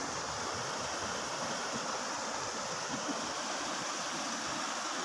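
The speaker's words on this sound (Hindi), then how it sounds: "पीछे से जो पानी बिल्कुल स्लो आ रहा है और ये चाल के आगे जो है पानी की स्पीड जो है बढ़ जाती है।" Water in the Hakra canal in Bahawalnagar, Pakistan, rushes steadily where slow flow speeds up past a drop, a continuous broadband roar with no voices.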